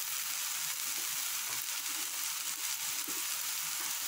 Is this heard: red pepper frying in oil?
yes